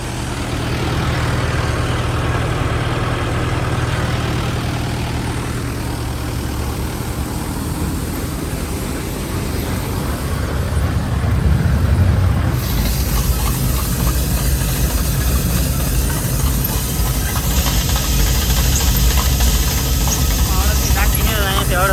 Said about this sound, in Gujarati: અત્યારે આ મશીન ચાલુ છે બરાબર. ટ્રેક્ટર છે આપણે મહિન્દ્રા 575.